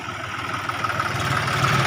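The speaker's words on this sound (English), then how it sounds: "It is a tractor to till the land." Tractor engine idling steadily in a village, a continuous low mechanical rumble with a faint rhythmic knock, moderately close and alone.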